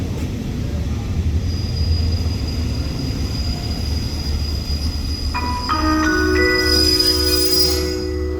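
Express train 167 rolls into Ban Pong station in Thailand with a steady low rumble, then brake squeals and high metallic whines rise near the end as it slows to a stop.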